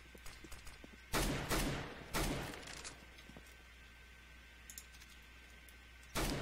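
A decoy grenade in the video game CS:GO imitating gunfire, a few short, sharp bursts of fake shots with quiet gaps and faint clicks in between, fairly distant and low in level.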